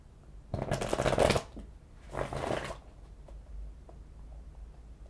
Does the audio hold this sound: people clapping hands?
no